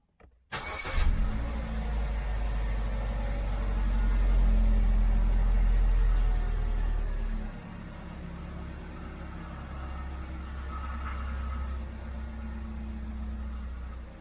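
A Suzuki Jimny M13 engine cranks briefly, catches and starts after a crankshaft position sensor replacement, revving loudly before settling into a steady idle nearby.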